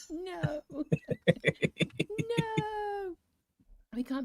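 A cat meows in a room during a recording session, giving a quick series of short, bright, rhythmic meows, then a longer drawn-out call, close and fairly loud before a pause.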